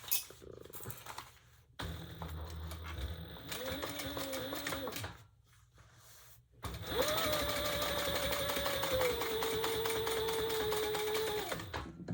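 A sewing machine top stitches the bottom gusset of a blue croc and ostrich effect East West bag in two long, steady runs, its motor humming with a rapid needle rhythm, separated by brief pauses and quiet handling.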